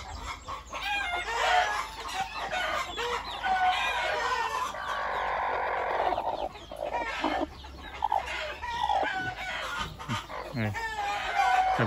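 Hens cluck and cackle near at hand while a rooster crows loudly in the middle, the flock's chatter continuing around it with a voice briefly heard in the background.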